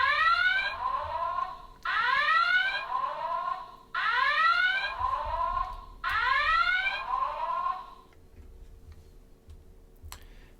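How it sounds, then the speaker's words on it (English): Electronic sound effects from the buttons of a 2022 Playmates USS Enterprise toy: four loud rising warbling sweeps in a steady series, each about a second long, then quieter hum and a faint click at the end, heard alone through a small slightly crackly speaker. "each button, there's 3 buttons, each one does a few different sounds"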